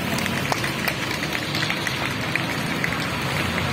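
Steady applause from a studio audience welcoming guest Tariq Afandi at a prize draw for Umrah tickets, a continuous dense patter of clapping holding at even strength throughout.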